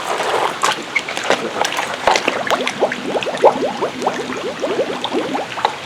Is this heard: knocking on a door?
no